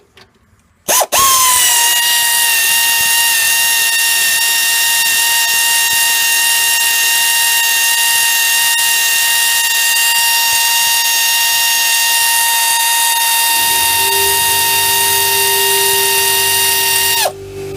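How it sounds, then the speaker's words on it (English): Loud steady hum of a shop air compressor kicking on during car brake inspection work, running continuously and close by for about sixteen seconds, with a deeper motor tone joining near the end before it cuts off. "there's the compressor that kicks on at the same time"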